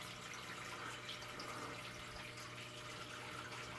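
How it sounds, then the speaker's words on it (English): Indoor water fountains in a laundry room run with a soft, continuous splashing trickle, faint and steady throughout. "And the fountains are on."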